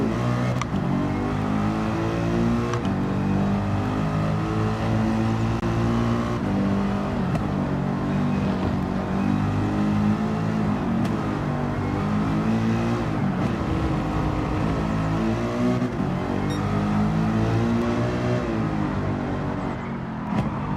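A race car engine in Gran Turismo 7 drones and revs continuously for the whole stretch, loud and steady with rising and falling pitch as it accelerates and shifts, with no talking over it.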